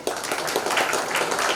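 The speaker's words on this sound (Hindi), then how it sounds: "इसके लिए भी तालियां हो जाए।" Audience applause at a company launch event for Earnexa Network, a steady wash of many hands clapping together that holds at an even level throughout its short span.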